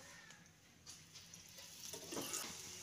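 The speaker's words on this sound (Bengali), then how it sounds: "সাদা তেল দিয়ে পরোটাটা ভেজে নিচ্ছি।" A paratha fries in white oil in a pan, a faint, soft sizzle that rises slightly toward the end with light stirring sounds.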